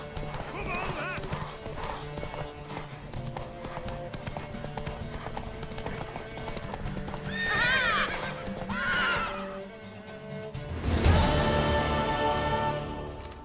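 In The Witcher 3: Wild Hunt, hooves clip-clop steadily while a mare whinnies twice, with a loud burst of noise near the end, heard over game background sounds and voices.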